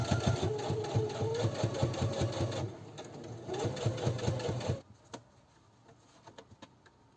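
A sewing machine stitching leather binding onto a child's fabric apron, running in fast, steady bursts with a clear pause near three seconds, then stopping abruptly near five seconds, leaving a few faint clicks.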